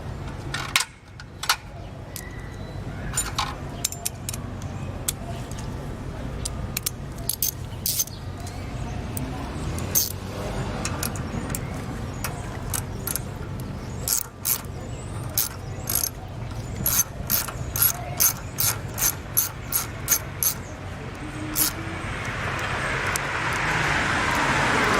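A ratchet wrench rapidly clicks as it backs 10 mm bolts off the cover of an Ex-cell WGC3030 pressure washer. Bursts of sharp ratcheting repeat through the clip, with some speech in between.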